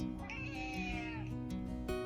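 A cat gives a single drawn-out, whiny meow up close, wavering in pitch before trailing off, over a faint room hum.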